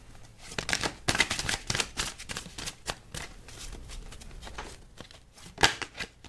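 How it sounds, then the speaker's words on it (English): Tarot cards being shuffled by hand in a quiet room, a run of crisp riffling and slapping bursts with short pauses between them, close and fairly soft with no talking. "as I begin to shuffle our cards"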